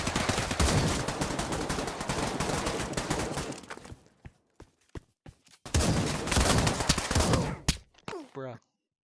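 Dense shotgun-sniper gunfire in the Pavlov VR shooter game, a loud sustained burst of shots, then scattered single cracks, then another heavy volley ending in a few sharp reports.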